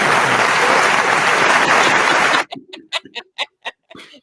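Loud sustained applause for a guest on a soul line dance talk show, filling the first two seconds, then thinning into a handful of separate, distinct claps that taper off.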